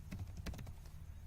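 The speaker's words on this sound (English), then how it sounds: "So I am simply typing here" Quick, light keystrokes on a computer keyboard as HTML code is typed, a close, soft run of uneven clicks with no talking.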